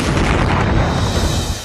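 Loud, continuous rumbling roar of explosions and gunfire from street fighting in Mariupol during the Russia-Ukraine war, dense and close with no pause.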